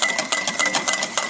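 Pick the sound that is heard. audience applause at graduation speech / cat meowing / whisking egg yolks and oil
whisking egg yolks and oil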